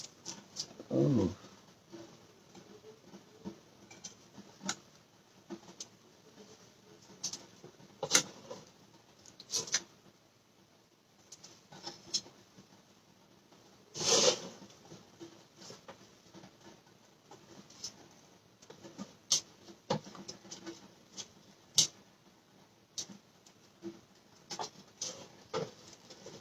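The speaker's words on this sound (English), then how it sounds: "Y'all hear that rain? It's hitting the hood." Rain tapping on the hood of a car, scattered irregular pattering with sharper close hits popping out of a quiet background, light and uneven, while a voice talks intermittently.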